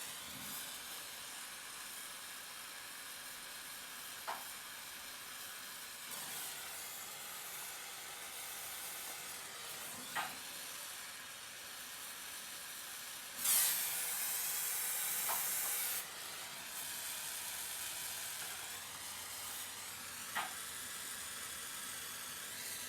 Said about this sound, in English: I can just use the Smith's torch to get in there and just melt that tube back in again